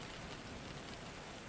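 Steady rain pours in a dense, even hiss of constant noise with no breaks, soft overall.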